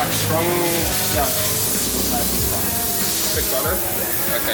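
Black-and-white paint sprayed onto a surfboard at a surfboard repair shop in Uluwatu, Bali, gives a steady close hiss that runs throughout while people talk over it.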